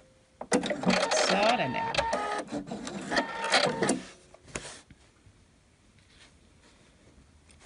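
A sewing machine stitches reinforcement across a shirt placket, running loudly with a rapid mechanical whir for about three seconds before stopping. A short spoken remark follows in the quieter tail.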